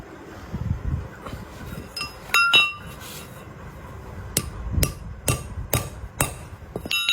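Hammer striking a Pulsar 150 motorcycle part to knock out a worn pin, a series of sharp metallic blows with a ringing clink, spaced irregularly and then repeating faster near the end, with no voices.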